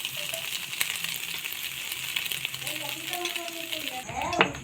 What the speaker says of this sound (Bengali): কড়াতে তেল গরম করে ডিমটাকে আমরা দিয়ে দেব